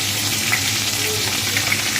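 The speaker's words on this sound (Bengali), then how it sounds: "চারটে এলাচ দিলাম আর এই যে তেজপাতা ফোড়ন দিলাম" Cardamom pods and bay leaves sizzling in hot oil, a loud, steady close-up crackle and hiss with no voices.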